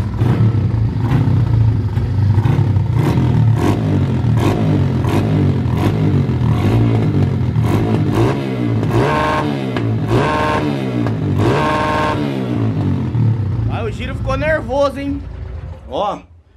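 A motorcycle engine converted to run on ethanol fuel idles roughly, then revs repeatedly in loud rising and falling bursts, close by, with mechanical clatter throughout.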